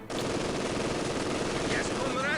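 Sustained machine gun fire in the World War II strategy game Company of Heroes 2, a dense continuous rattle that stays loud and close throughout.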